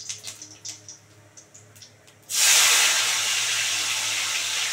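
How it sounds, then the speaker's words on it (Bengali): Chopped tomato drops into hot oil with bay leaf, dried red chilli and cumin, setting off a sudden loud, steady hiss that continues close by after a few soft clinks. "তারপরে দিয়ে দেবো হচ্ছে কুচানো টমেটো।"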